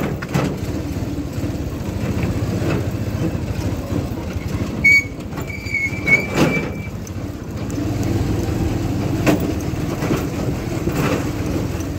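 A train rumbles steadily nearby for the whole stretch, a low continuous roar with a brief high tonal squeal or whistle rising partway through.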